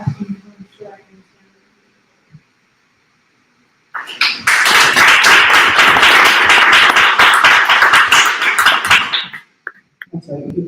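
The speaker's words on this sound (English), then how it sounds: "That's right, you do those claps" Audience at an evening panel event on the county criminal legal system breaks into loud, sustained applause lasting several seconds, dense and steady before fading, with scattered voices and quiet talk around it.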